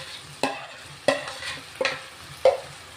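Prawns coated in a spiced homemade masala marinade are tossed in a pan, with four distinct spatula knocks and scrapes spaced evenly over a faint, low sizzle.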